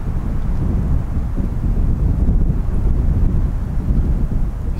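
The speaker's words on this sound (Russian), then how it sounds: "Давай посидим, подождем сейчас, пока ветер кончится." Strong gusts buffet the microphone, producing a heavy, low rumbling roar that fluctuates continuously without letting up.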